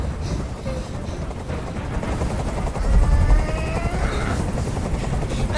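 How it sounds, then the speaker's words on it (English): A helicopter in the video game Detroit: Become Human thrums loudly and continuously with a deep rotor rumble that swells midway, accompanied by bursts of gunfire-like crackle and faint voices beneath. "I can't stand that noise anymore. Tell that helicopter to get out of here."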